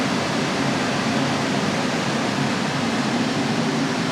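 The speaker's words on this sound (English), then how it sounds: "the air conditioner is on right now, and the compressor is on as well as the fan." A BLACK+DECKER BPACT12WT 12,000 BTU portable air conditioner runs with compressor and fan on, giving a steady, even whooshing hum with a low drone throughout.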